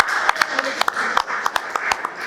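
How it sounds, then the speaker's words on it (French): Audience at a press café gathering of local journalists applauding: a fairly close burst of clapping with distinct sharp individual claps standing out over a steady bed of hands, with some voices mixed in. "On applaudit encore une fois."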